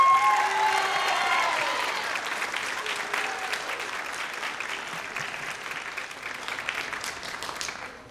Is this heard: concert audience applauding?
yes